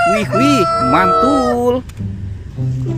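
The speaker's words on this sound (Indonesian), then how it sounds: "ada ayam berkokok" A toy rooster plays a loud, electronic-sounding cock-a-doodle-doo crow with clear pitched contours, followed by a brief pause; someone speaks briefly near the end.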